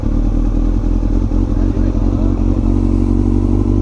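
Steady, loud engine drone of a 2016 Kawasaki ZX-6R being ridden, with road and wind rumble and faint clatter throughout, heard up close.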